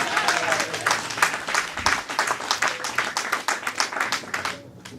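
A church congregation applauds together during a sermon, steady dense clapping filling the space at moderate loudness and fading off near the end.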